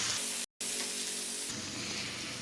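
Onions and other ingredients for Kerala beef curry saute in a pan with a steady, close hiss and sizzle. There is a brief silent gap near the start.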